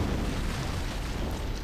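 Deep rumbling blast aboard a ship in the video game Halo from an antimatter charge, a dense low roar filling the whole moment without pause.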